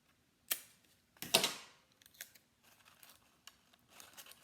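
A small piece of tape pulled and torn for a paper flower: sharp crisp rips and crinkles, then lighter scattered clicks and rustles close by.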